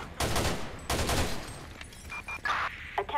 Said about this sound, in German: Okay, wir werden beschossen